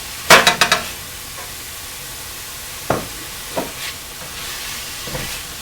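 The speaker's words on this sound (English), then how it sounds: "Give them a good stir to combine all the ingredients here." Mushrooms and garlic in a meatloaf dinner pan get stirred, a quick burst of scraping clatter at the start followed by a soft steady sizzle and a few isolated utensil scrapes.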